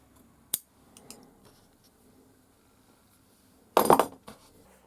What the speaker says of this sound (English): Trim off the excess and keep sewing the sections.